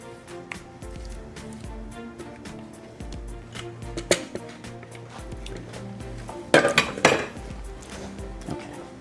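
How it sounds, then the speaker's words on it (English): Brownie batter being scraped from a bowl into a baking dish, with close utensil scraping, clinks of metal on the dish and a few sharper knocks near the end, with faint voice in the background. "So we got our brownie batter going right into our baking dish here."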